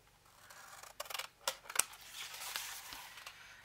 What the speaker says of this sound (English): let's cut these corners off